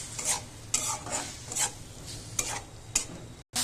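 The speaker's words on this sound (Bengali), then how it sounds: "ডিমটা সুন্দর করে একটু লাল লাল করে ভেজে নিতে হবে" Baim fish eggs frying with onion in a pan, a spatula scraping and stirring in steady repeated strokes over a soft sizzle, close and moderately loud, with no voices.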